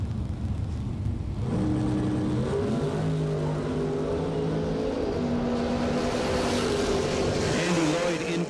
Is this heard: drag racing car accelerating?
yes